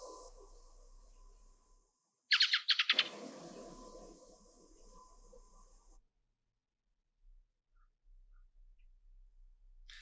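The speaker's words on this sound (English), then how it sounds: "And then you've got ring ouzel. So this is a close relative of blackbird" A ring ouzel, a close relative of the blackbird, calls in a quick burst of harsh rattling chacks, recorded alone outdoors with a faint background hiss and no other sounds.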